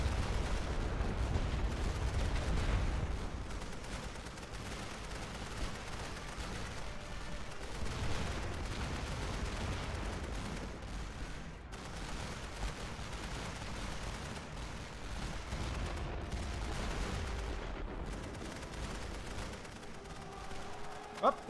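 Battle noise from the WWI video game The Great War: Western Front: dense, continuous rumbling gunfire and distant artillery-like booms rolling on without a break, with a player talking over it at times.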